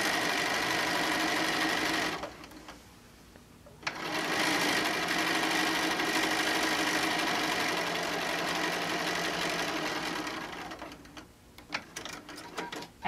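A sewing machine stitches a tote bag handle made from a panel, a loud, close motor whir running in long bursts, stopping briefly around two seconds in and again near the end.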